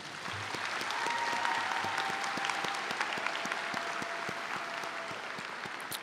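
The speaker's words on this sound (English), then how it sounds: "Please give them a round of applause." Audience applause at a 2025 high school graduation ceremony, a sustained, even wash of clapping from a large crowd in a big hall, steady and moderately distant.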